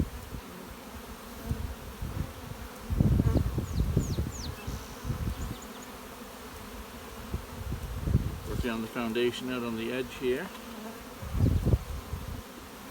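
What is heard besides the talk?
honey bees buzzing at an opened hive colony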